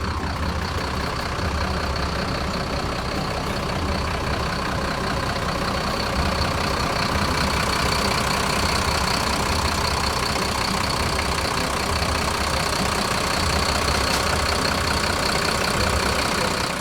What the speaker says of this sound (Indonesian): Ayo, kita dengerin suara mesinnya. Halus banget suara mesinnya.